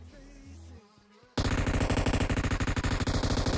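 After a brief stretch of quieter video game sounds, rapid automatic gunfire bursts in abruptly and continues in a loud, fast, unbroken rattle.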